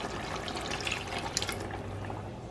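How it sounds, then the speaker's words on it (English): A can of water pours into simmering tomato sauce in a pot, a soft steady splashing trickle close by, quiet and unbroken. "And then I'm also going to add in a can of water"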